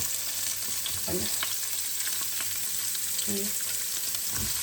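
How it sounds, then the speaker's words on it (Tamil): Capsicum fries in olive oil with a steady soft hiss, while a few dull knocks of a utensil against the pan come through; no speech. "இப்போ எனக்கு ஒளிவ எண்ணெய் நல்லா ஹீட் ஆகக்கூடாது, நான் போடுறேன். முதல்ல இந்த குடமிளகாய்"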